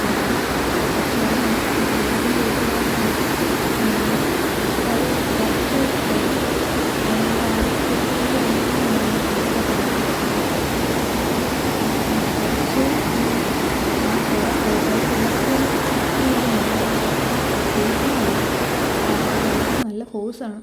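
Marmala waterfall pours with great force onto rocks, a dense, continuous roaring rush of water that stays loud and even throughout before cutting off abruptly at the end.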